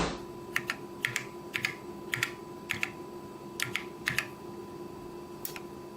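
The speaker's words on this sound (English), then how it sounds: "you can hear the cassette relay clicking" A cassette motor relay on a CoCo computer clicks on and off under keyboard control. Crisp, faint clicks come in pairs, evenly spaced over a low hum, with no talking.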